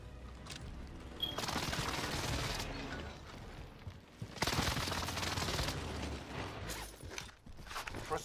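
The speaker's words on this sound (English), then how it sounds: "Taking target for airstrike. This is Phoenix 3. Strike inbound." Airstrike explosions and bursts of gunfire from a first-person shooter battle, with two loud broadband blasts that each rumble for over a second, separated by quieter stretches of mechanical clatter and scattered shots.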